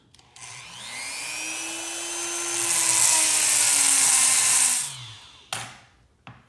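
A power tool whines up and holds a steady pitch for about four seconds while slotting the end of a homemade stud for a screwdriver, during a vintage Skilsaw 825 rebuild, then spins down, followed by a few short clunks.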